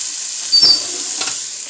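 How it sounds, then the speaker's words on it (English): Browned chicken and seasoning sizzling in a pot for Cajun chicken boudin, a steady soft hiss with a couple of brief stirring scrapes. "Now we're gonna get ready to put this seasoning in here and cook it down."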